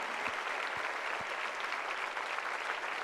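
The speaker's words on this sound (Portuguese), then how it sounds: "Aplauda forte aí, meu irmão." Loud, sustained applause from a church congregation at a Lagoinha worship service, a thick even wash of many hands clapping throughout.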